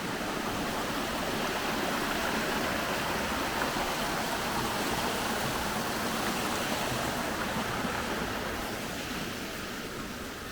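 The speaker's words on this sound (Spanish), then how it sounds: "Puentecito de madera, el río." A river stream flows beside a wooden footbridge along a roadside trail, a constant, full rushing of water heard close up, steady throughout and gradually easing slightly at the end, with no voices.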